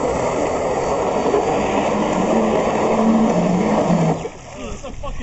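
A jet-powered surfboard's engine roars at full throttle for several seconds, a loud broad steady blast that drops off sharply near the end, with excited voices under and after it.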